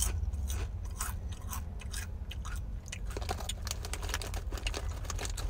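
Close-up crunching and chewing of spicy chili pepper chips during a mukbang, with dense, continuous crisp bites and mouth sounds at steady loudness throughout, no talking.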